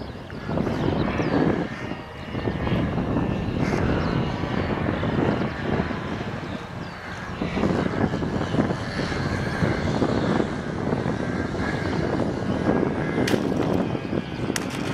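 Xjet model jet aircraft engine whining and roaring steadily throughout a vertical landing in windy conditions, loud and continuous with wind buffeting and no talking.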